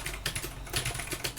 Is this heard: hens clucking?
no